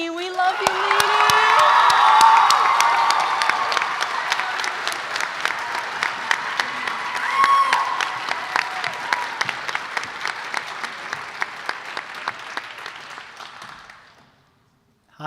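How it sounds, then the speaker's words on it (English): A graduation audience at an arts high school bursts into loud applause with cheers, whoops and shouted voices. The clapping later thins into scattered, rhythmic claps that fade out before a sudden stop. "Big round of applause to Ryan Meaney"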